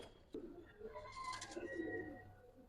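Domestic Giribaz pigeons kept as a collection, cooing in soft low murmurs close by, with overlapping calls through most of the stretch and a faint background hum.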